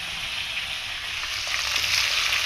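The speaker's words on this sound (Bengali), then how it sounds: "দেখো খিচুড়ির জন্য সমস্ত মশলা আমি ভেজে নিচ্ছি" Spices for khichuri fry in a hot pan, giving a dense, continuous close sizzle with slight stirring movement, loud and steady with no one talking.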